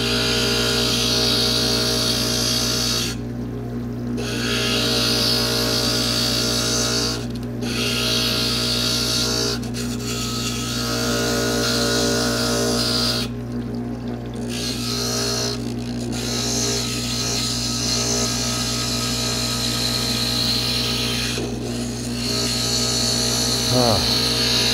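Glass grinder bit grinding glass while a wet sponge rubs against it, a steady close whirring hum with gritty rasping that dips briefly several times, with talking in the background.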